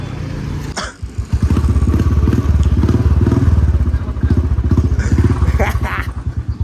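A motorcycle starts after a brief clatter and settles into a loud, close, steady putter that rises slightly toward the end.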